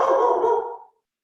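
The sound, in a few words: dog barking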